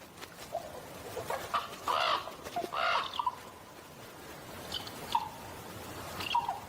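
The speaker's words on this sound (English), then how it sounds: "Raucous cries from crows pierce the air." Crows caw raucously through fog in a forest beside fjords in Canada at morning: several harsh, ringing calls at moderate distance, with quieter bird chatter between them.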